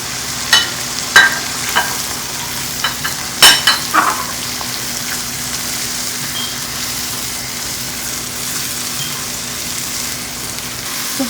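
Spices roast in tomato puree in a pan for a cauliflower and potato dish: a soft continuous sizzle broken by several sharp spoon clicks early on, then a quieter, even bubbling hiss with no voices.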